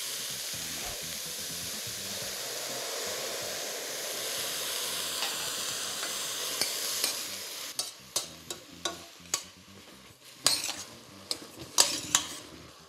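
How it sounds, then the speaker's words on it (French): White wine hits a hot pan of button mushrooms with ginger, giving a steady close sizzle and steam hiss, then a run of sharp spoon-and-pan clinks as the mixture is stirred. "Je vais verser le vin blanc."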